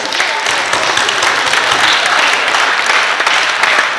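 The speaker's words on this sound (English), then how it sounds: "let's give the graduates a nice round of applause" Sustained applause from a seated audience at a Columbus Urban League graduation ceremony, a dense, steady clapping wash that holds at full strength for the whole stretch with no voices above it.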